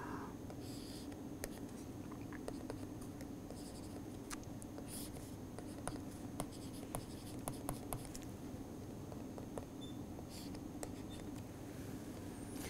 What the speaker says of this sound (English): let us draw a free body diagram of this square block once more.